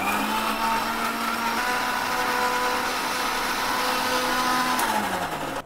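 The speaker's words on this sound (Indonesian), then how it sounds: "Sekarang kita pergi giling ya." A blender grinds garlic, chili and ginger for a Padang-style spicy sour fish dish, running as a steady loud whir with a slight pitch drop near the end before it cuts off.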